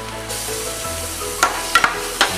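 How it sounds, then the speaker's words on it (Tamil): Onions and green chillies sauté in a pan on an induction cooktop, a close, steady sizzling hiss with a few sharp clinks and scrapes from the stirring spoon toward the end. "இப்போ இன்னும் ஆனியன் வந்து வதங்கிறதுனால அது இன்னும் கொஞ்சம் கலர் மாறிட்டு இருக்கு."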